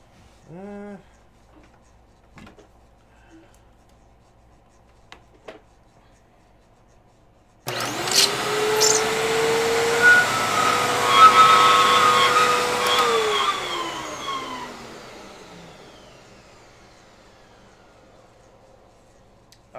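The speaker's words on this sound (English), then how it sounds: "Well, now it's squealing for no reason." After a few quiet knocks, a machine whirs on loudly, then a high, wavering squeal rises above the motor noise before slowly fading out.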